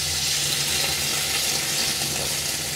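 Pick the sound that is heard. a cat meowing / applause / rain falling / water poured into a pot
water poured into a pot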